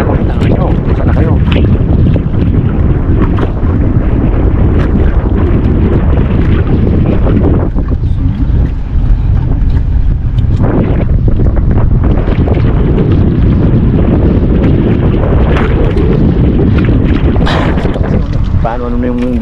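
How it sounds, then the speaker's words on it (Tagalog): Strong wind roars over an open boat at sea, a loud, constant buffeting rush across the microphone with water and hull noise beneath and voices talking intermittently throughout. "Bilis ng hangin yan eh."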